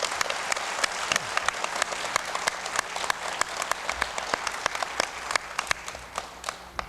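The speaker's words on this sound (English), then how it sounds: "let's give these students a nice round of applause" An audience at a school speech contest applauds fifth grade students, a brisk crowd of hands clapping steadily with sharp individual claps standing out, tapering slightly at the end.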